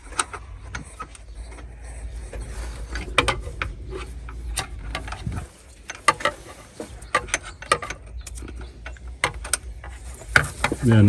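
A ratchet wrench fitted with a 14 mm socket turns to release belt tension on a car's power steering pump, giving faint irregular clicks over a steady low hum, with someone talking.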